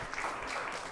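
Children clapping for a classmate in a classroom session, a dense, steady patter of many small hands running through the whole short moment at moderate level.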